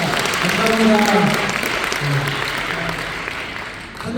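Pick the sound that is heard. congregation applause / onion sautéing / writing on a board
congregation applause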